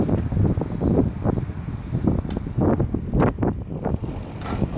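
Outdoor wind buffeting the microphone while a carbon fiber pole is handled, a loud, rumbling, gusty roar that rises and falls in uneven bursts throughout.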